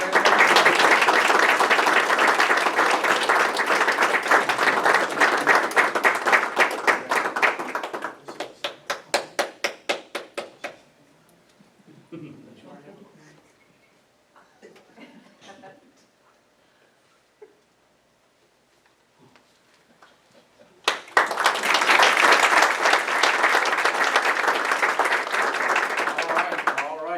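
A board meeting audience gives loud, sustained applause for state champions, tapering into scattered claps and quiet murmuring before a second strong round of clapping erupts.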